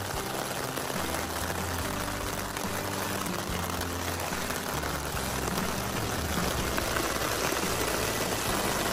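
Rain falls on a tarp on the Appalachian Trail, a dense, steady patter that holds at an even level throughout with no talking.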